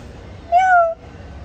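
A cat gives a single clear, close meow lasting about half a second, tonal and slightly falling at the end, alone against a quiet background.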